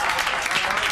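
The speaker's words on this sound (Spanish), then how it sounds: "creo que eso merece un fuerte aplauso" Dense studio audience applause fills the brief moment at steady loudness, a continuous wash of many hands with no voices on top.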